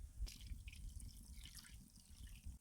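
Taro rinsed under running tap water in a kitchen sink, a faint, steady trickle with soft drips and splashes throughout.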